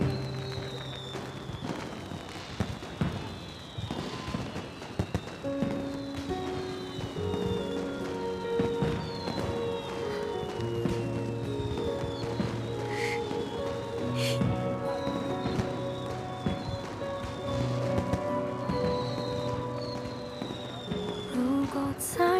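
Fireworks burst at a festive night scene, a run of scattered cracks and pops over a sustained bed of music, with tones and sweeps layered throughout.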